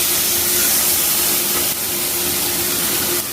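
Steady, loud hissing sizzle of spiced marinade poured into a hot pan, continuous throughout with a slight drop partway.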